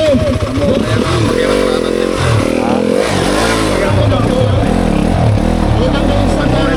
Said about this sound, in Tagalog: Sumad yung motor na